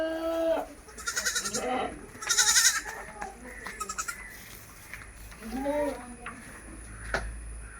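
Two young goat kids, about ten days old and offered for sale, bleat several times in short, close wavering calls, with someone talking in between.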